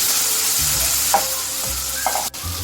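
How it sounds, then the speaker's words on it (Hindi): Marinated chicken frying in a pan for chow mein, a loud, close sizzle with a few scraping stirs and a brief dip near the end, no talking. "जो हमने मैरिनेट करके रखी थी वो चिकन डाल देंगे। ये चिकन आप लोग डाल दें इसके अंदर।"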